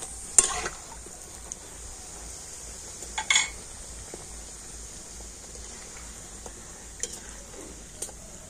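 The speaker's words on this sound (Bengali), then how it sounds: "তো দেখুন এটাকে একইভাবে খুব সুন্দর করে ভেজে নেব" Naan puri deep-frying in hot oil, a steady soft sizzle and hiss with a few sharp clinks of a utensil against the pan.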